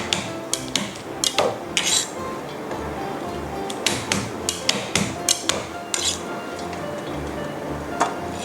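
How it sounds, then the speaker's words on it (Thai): Repeated sharp pounding thuds as coriander roots are crushed with a mortar or pestle on a hard surface, irregular knocks spread through the clip, fairly close and moderately loud. "รากผักชีนะคะ เวลาใช้เราจะต้อง ทุบก่อนนะคะ"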